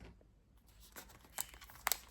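A plastic bag crinkles softly while a cross-stitch kit is unpacked, a few sharp rustles and crackles breaking through quiet handling noise near the end.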